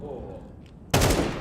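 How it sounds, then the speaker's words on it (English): HE grenade explosion during a Counter-Strike esports match, a sudden loud burst cutting in partway through after a stretch of quieter game noise and a voice. "That was a beefy nade."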